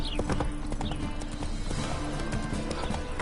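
Horse hooves galloping in The Witcher 3 video game, a rapid, steady clip-clop rhythm close up and continuous, with occasional neighing mixed in and no talking.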